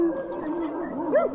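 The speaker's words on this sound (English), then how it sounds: "There's another dog." Another dog is heard from a slow-moving fat-tire e-bike ride: a drawn-out whine and a brief, fairly clear yelp near the end, over steady riding noise.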